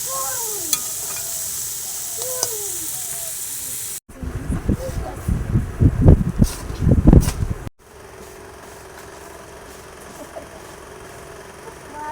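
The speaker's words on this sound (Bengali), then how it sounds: "ভাজাটা হয়ে গিয়েছে, এবার নামিয়ে নেবো। ভালো করে ভেজে নিতে হবে।" Turmeric and garlic fry in oil in a home kitchen, with loud bursts of crackling sizzle in the middle stretch, set between quieter passages of background hiss and talk.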